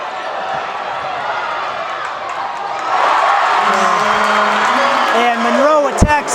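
Spectators at a boys high school basketball game, Putnam versus Westford, keep up a steady roar of cheering that swells louder partway through, with a commentator's voice carrying over the crowd.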